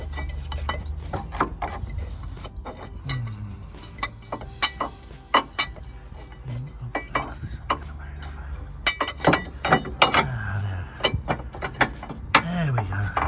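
Metal clinks and knocks of a bracket being worked free beside the drive shaft of a Land Rover Freelander, a series of sharp close taps and scrapes with light handling noise in between.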